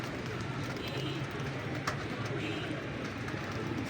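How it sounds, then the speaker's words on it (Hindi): Soft cooing of a red-eyed breeder pigeon in Lahore beneath a constant broadband hiss, with a brief sharp click midway. "बहुत ही आउट क्लास कबूतर है"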